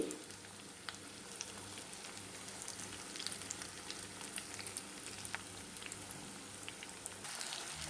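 Masala-coated fish pieces fry in hot oil in a pan, giving a steady close crackling sizzle with scattered pops throughout and no talk.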